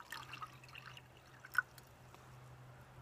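Tap water poured from a kettle or jug while making coffee, with a faint, thin trickle and a few light drips over a steady low hum. It sounds quiet and somewhat distant.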